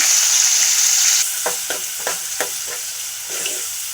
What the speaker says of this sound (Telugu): ఆయిల్ హీట్ అయిందండి మనం ముందుగా కట్ చేసి పెట్టుకున్న ఉల్లిపాయ ముక్కలు దీంట్లో వేసుకున్నాము